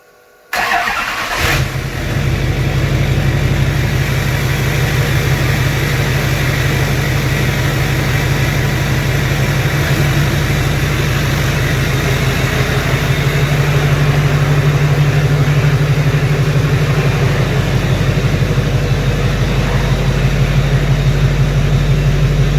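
A Duramax diesel truck cranks and fires up, then settles into a loud, steady, rumbling idle that holds for about twenty seconds with no talking.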